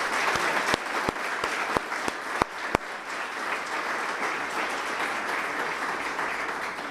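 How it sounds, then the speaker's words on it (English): An audience at a city address applauds police, fire and other first responders with steady, dense clapping, a few sharp individual claps standing out early, continuing evenly for about seven seconds. "if I could get a round of applause for all of our police, fire, and other first responders"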